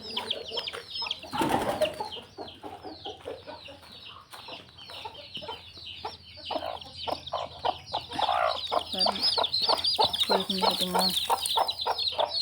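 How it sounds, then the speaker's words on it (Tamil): Chickens in a rural Tamil household cluck and squawk continuously while being shut into their coop for the evening, with busy overlapping calls, wing flaps and a brief burst of scuffling, close by, and a voice speaks briefly among them. "அடுத்து வந்து கோழி கொஞ்சம் அடைக்கணும். இந்த கோழி 2 செட்டு இருக்குது."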